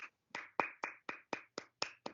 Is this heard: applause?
yes